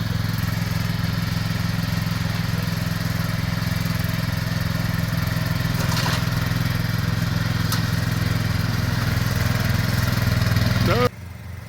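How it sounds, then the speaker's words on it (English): A lawn mower engine runs steadily and close while someone mows through undergrowth, a constant droning motor that cuts out abruptly near the end. "This is Peter having his go on the mower."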